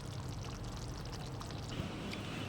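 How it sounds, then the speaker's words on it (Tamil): Kara kuzhambu, a spicy tamarind gravy made with shallots and garlic, is poured into a bowl with a soft, continuous wet slosh and gurgle, faint and steady for a couple of seconds. "இப்போ ஒரு பவுலுக்கு ட்ரான்ஸ்ஃபர் பண்ணிவிட்டு காமிக்கிறேன்."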